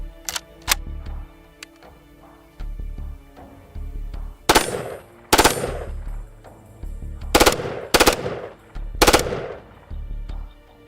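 A Cybergun FAMAS F1 airsoft replica of the French bullpup rifle fires a string of sharp, close shots and clicks, some single and some in quick clusters, spread across about ten seconds with quiet gaps between.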